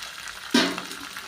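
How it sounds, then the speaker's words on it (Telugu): Chopped onion, green chilli and curry leaves drop into hot oil for a Telugu ponnaganti leaf fry, giving one sudden close sizzling burst that fades over a second. "ఇలా వేసి కొంచెం ఇవి కూడా దోరగా ఫ్రై అవ్వాలన్నమాట."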